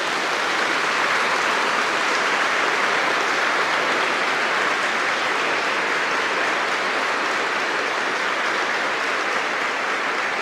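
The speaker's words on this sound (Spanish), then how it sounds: "Un aplauso para el Papa." An audience gives the Pope a sustained round of applause, producing dense, even clapping from a large crowd that stays loud and unbroken for about ten seconds.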